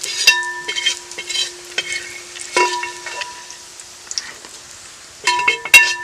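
Sautéed chicken scooped out of hot oil in a pan at a camp kitchen, a series of short scraping, stirring clinks and soft sizzles in irregular bursts, close and fairly quiet between strokes.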